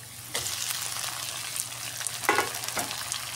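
Garlic, onion and tomatoes sautéing in a pan for chicken pochero, a steady close sizzle with a few scraping stirs of a utensil against the pan.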